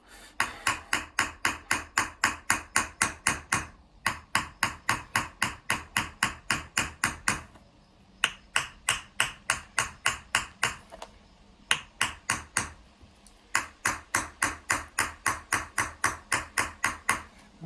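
Metal hammer chasing a metal vessel, struck in fast, even runs of sharp ringing taps, close and distinct, with brief pauses between each burst of blows.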